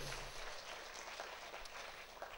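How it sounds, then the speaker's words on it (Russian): Audience clapping at an awards ceremony, a faint, distant wash of steady applause from a hall that carries on evenly with no voices over it. "Спасибо, ваши аплодисменты"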